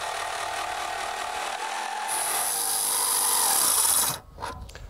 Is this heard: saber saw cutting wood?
yes